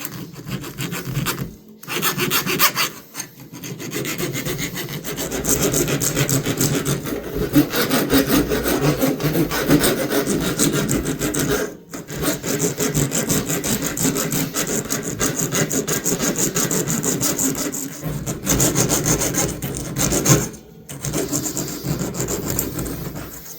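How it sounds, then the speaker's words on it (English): A light metal file scrapes grime off the blade of an old Hammer Brand camper knife in steady back-and-forth strokes, close and continuous with a few brief pauses, no voices. "what I'm going to do is just start off with not a really heavy file. But I just want to start getting rid of that mess"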